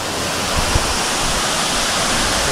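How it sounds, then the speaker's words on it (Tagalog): Tuay Falls, a waterfall in San Rafael, Rodriguez, Rizal, roars with strong rushing water, a loud steady broadband wash that fills the scene without pause. "Ganda ng falls. Lakas ng tubig."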